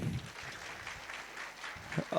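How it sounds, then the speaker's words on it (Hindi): Applause for a guest at a get-together event, a broad wash of clapping running steadily throughout at moderate loudness, with brief low voices surfacing near the end. "एक जोरदार तालियां सिर्फ इनके लिए"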